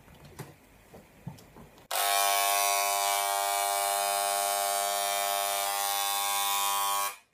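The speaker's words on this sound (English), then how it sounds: "If we just try it with the Wahl Senior, which is a hair clipper as opposed to a trimmer" A Wahl Senior hair clipper powered through a Radio Shack travel voltage converter switches on after a quiet moment and runs with a loud, steady electric buzz for about five seconds before cutting off.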